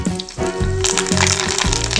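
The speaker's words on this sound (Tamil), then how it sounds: "அதுலேயே நம்ம கறி லீவ்ஸ் கொஞ்சம் ஃப்ரை பண்ணிக்கலாம்" Curry leaves frying in hot oil left over from mushrooms, a loud crackling sizzle that swells after a brief lull and continues steadily.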